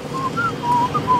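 Someone whistles a few short, clear notes at a steady pitch, one after another, over a soft background hum.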